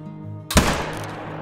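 A single sharp rifle shot fired at a red deer in a hunting game, a sudden loud crack with a short rumbling tail that fades within about a second.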